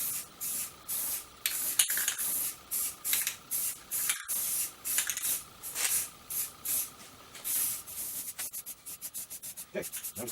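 Aerosol spray paint hisses in repeated short bursts onto a carvable Great Stuff foam pumpkin, close and steady, with brief pauses between sprays and a quicker run of shorter bursts near the end.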